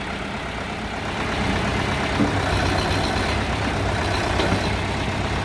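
An Orion 404 tractor fitted with a front jaw loader runs with a steady low diesel rumble while its hydraulics work, the engine note rising slightly and holding evenly and loud nearby.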